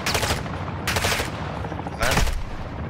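Repeated sniper rifle shots in a first-person shooter video game, three sharp broadband cracks spaced about a second apart, loud and close, over a steady game background.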